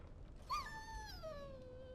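A dog in the video game Dragon Age: Origins lets out a single rising then falling whine, a drawn-out whimper that fades over a couple of seconds with no other sound around it.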